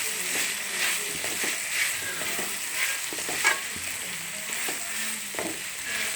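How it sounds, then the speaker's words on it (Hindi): Vegetables for chicken vegetable macaroni hiss and sizzle in a hot pan as they are mixed, a steady close frying sound with soft repeated stirring scrapes and one brief louder clack. "तो अब हम अपनी सब्जियां डालेंगे इसमें। इसे अच्छे से मिक्स करेंगे।"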